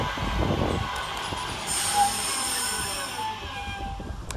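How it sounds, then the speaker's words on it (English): Northern electric train 331008 arriving at Burnage railway station, a rumble of wheels and motors rising with brief brake squeal and hiss, heard from the platform with ambient station noise. "Whilst here comes our train in the form of"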